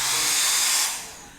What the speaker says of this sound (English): now I grab my hair dryer.